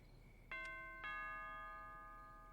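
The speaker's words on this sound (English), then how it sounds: "Ned's doorbell." Ned Flanders' doorbell in The Simpsons: Hit & Run rings a clear two-tone ding-dong that rings out and slowly fades against a quiet background.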